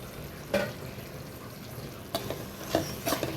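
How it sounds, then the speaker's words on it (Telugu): Fenugreek leaves added to a tomato curry in a pan, giving a steady soft sizzle and frying hiss with a few brief stirring scrapes, fairly quiet throughout. "ఇప్పుడు దీనిలోకి ఇదిగోనండి మెంతికూరని వేసేసుకుందాము."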